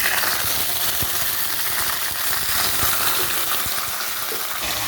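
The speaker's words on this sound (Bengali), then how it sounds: "তেলটা গরম হয়ে গেছে দিয়ে দিচ্ছি মাছটা" Hilsa fish pieces laid into hot oil in a wok give a continuous dense sizzle with scattered sharp pops, steady and close throughout with no talking.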